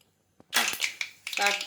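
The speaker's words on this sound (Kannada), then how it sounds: "ಸಾಸಿವೆ ಸಿಡಿತಾ ಇದೆ." Mustard seeds crackle in hot coconut oil in a home kitchen, sounding as sharp, close popping bursts and sizzling spatters in two loud clusters after a brief near-silence.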